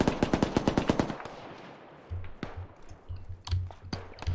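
A rapid burst of automatic gunfire from the ArmA combat video game, several close, loud shots in a fast even rhythm, then scattered, more distant thumps and bangs.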